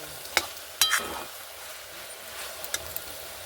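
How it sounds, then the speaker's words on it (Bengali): Salted dried fish (shutki) frying in a pan is stirred, with a few scraping clinks of a utensil over a faint, steady sizzle, close and alone. "লবণটা দিয়ে একটু ঘেটে দেবো।"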